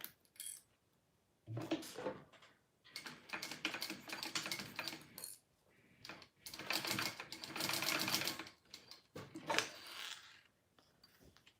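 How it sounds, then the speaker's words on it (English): A sewing machine stitches down a zipper tab on a fabric wristlet, running in four separate bursts of whirring stitching with short pauses between them. The machine is close and clear, and no one speaks. "I'm gonna stitch that down."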